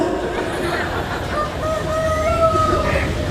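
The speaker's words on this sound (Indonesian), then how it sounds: "Itu suara ayam beneran atau handphone?" Chickens cluck and call in a noisy outdoor setting, with a steady background rumble throughout.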